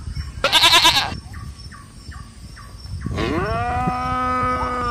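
A calf moos in long, wavering calls, one short loud burst early and a sustained bellow near the end, with lighter animal noises and faint background rumble between.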